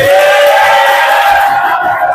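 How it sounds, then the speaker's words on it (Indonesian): A loud crowd at a stand-up comedy show cheers and claps together, a dense roar of voices and applause that stays strong throughout. "Tepuk tangan buat welding"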